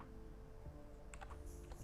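Computer keyboard typing while cleaning up a Windows 10 C drive, a quick burst of a few faint clicky keystrokes near the end after a quiet stretch.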